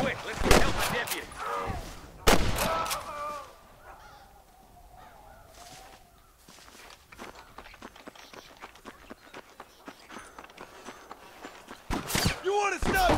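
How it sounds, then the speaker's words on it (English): Several loud gunshots crack out in the Western video game Red Dead Redemption, with a rapid run of fainter distant shots in between, mixed with footsteps and characters talking. "I can hear more gunshots."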